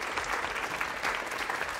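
Audience applause for a guest on a Nepali singing competition show, a dense, steady clapping from a large crowd lasting throughout without any talk.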